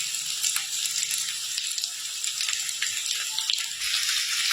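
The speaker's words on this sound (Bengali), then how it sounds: "তো তার আগে এই আলুগুলোকে সুন্দর করে ভেজে নিব।" Potatoes fry in hot oil tempered with white cumin in a home kitchen pan, a loud steady close sizzle and crackle running throughout with small pops, no talking over it.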